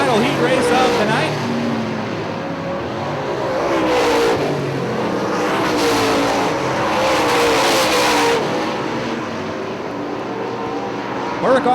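Late model race cars roar around Hartford Speedway Park during a final heat race, engines droning and swelling steadily as the pack passes, with a commentator talking over the track noise throughout.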